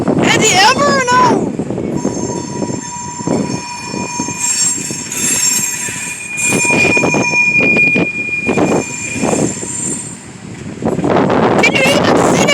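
A train passes close by in Elkhart, Indiana, with rumbling railcars, squealing wheels and sustained horn blasts. Wind buffets the microphone, and people talk over the noise.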